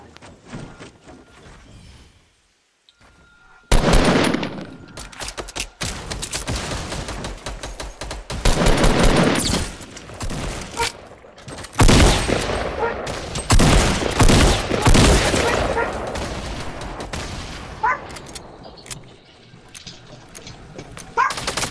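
Bursts of rapid gunfire from a Fortnite match, mostly dense and loud with short quieter gaps, recurring through the clip with some scattered thumps and occasional faint voices.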